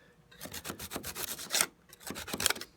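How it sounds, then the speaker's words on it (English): A hand saw rasps back and forth through wood in quick, steady strokes, two bursts separated by a brief pause, close and fairly soft. "I'm just going to kind of saw in between here."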